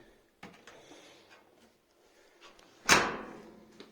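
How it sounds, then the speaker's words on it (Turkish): An Arçelik dishwasher door being opened and closed during a repair, a few light clicks and rattles followed by one sharp, loud thud as the door shuts, close by in a quiet room. "Şimdi kapıyı aç kapa bakalım."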